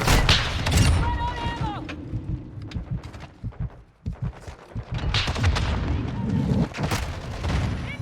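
Dense gunfire from the video game Modern Warfare 2 crackles in rapid bursts and fusillades, loud and close, with game voices calling out under and between the shots.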